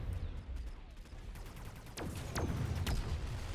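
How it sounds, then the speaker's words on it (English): An anti-air fortress barrage in the strategy game Mechabellum crackles as a continuous rattle of rapid gunfire, with sharper shots standing out near the end over a dense, low rumbling battle backdrop. "So this AA barrage is slightly nerfed, since the Fortress is doing a little bit less damage with the mass produced."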